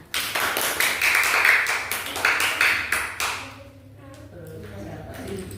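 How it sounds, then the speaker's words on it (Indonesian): An audience at an Islamic boarding school gathering claps hands in a brisk, dense burst of applause that fades after a few seconds, then a voice speaks quietly. "Tepuk tangan."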